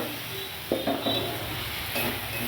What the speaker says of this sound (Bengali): এবার এর মধ্যে দিয়ে দেবো আমি বেগুনগুলো